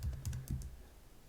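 A few quick keystrokes on a computer keyboard entering a server name, close and soft, in a brief burst that trails off into quiet.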